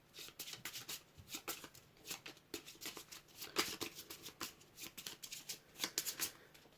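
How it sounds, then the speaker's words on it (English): Playing cards are shuffled into a deck during a Puzzle Dungeon board game, giving quiet, close, repeated riffling bursts in an uneven rhythm. "So he has shuffled the top 3 cards of the discard pile into the deck"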